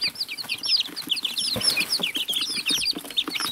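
Baby chickens chirping and clucking in an off-grid brooder, a dense, continuous flurry of high peeps from many chicks close by, with occasional wing flutters and no speech.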